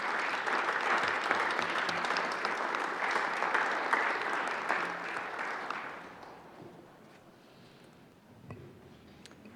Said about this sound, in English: let's begin by giving them a round of applause